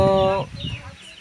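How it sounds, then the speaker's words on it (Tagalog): A chicken on a breeder's farm gives a loud, drawn-out call up close, followed by softer scattered clucks from nearby birds. "dito maraming mga manok"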